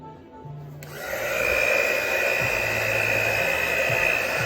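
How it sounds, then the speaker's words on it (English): A blow dryer switches on and runs with a steady, loud whir as it pushes paint across a canvas for a galaxy abstract puddle pour, with faint handling sounds beneath. "She uses a blow dryer."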